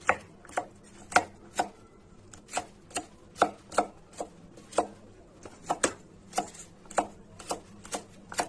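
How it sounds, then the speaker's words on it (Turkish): A knife chops garlic steadily on a board, sharp evenly spaced strikes repeating for several seconds with nothing else around them. "Hemen sarımsakları da doğrayalım."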